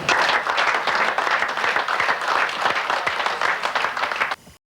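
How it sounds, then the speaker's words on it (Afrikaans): An audience gives a warm round of applause for two long-serving rugby players, a dense, loud wash of many hands clapping that holds steady and then cuts off abruptly. "Kom ons gee hulle 'n lekker hande klap."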